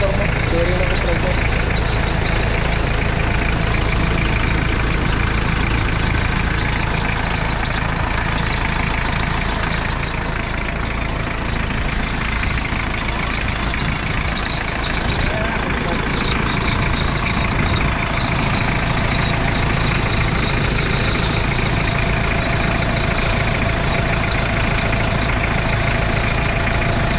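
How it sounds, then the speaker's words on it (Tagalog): A van's engine-driven compressor runs steadily alongside the idling motor, a constant low mechanical drone with a faint knocking pulse, while people talk over it throughout. "Compressor yan."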